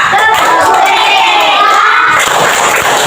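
A classroom group of children performs a rhythmic clap chant together, loud shouted voices over quick hand claps, with a burst of sharper clapping toward the end.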